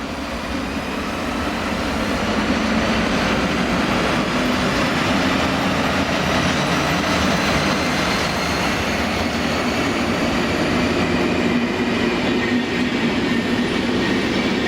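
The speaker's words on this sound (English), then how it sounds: "A locomotive change takes place at Singen, where an SBB RE44 loco is the usual motive power for the final leg to Zurich." An SBB Re 4/4 electric locomotive train running in Switzerland, a steady loud rumble and roar that holds evenly for the whole stretch, with no voices.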